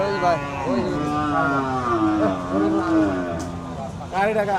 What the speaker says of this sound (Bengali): এই গরু কার এটা